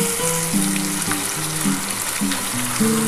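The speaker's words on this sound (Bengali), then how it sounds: "এবার আমি এই মশলাটা দিয়ে দিচ্ছি।" A spice paste of mustard, garlic, green chili and tomato hits frying onions in a pan, giving a loud, close, continuous sizzle with bubbling tones underneath.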